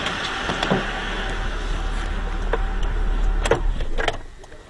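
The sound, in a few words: car engine running, then switched off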